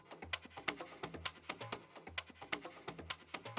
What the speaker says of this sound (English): track 12 uses the Hand Dread patch, which sounds like this dry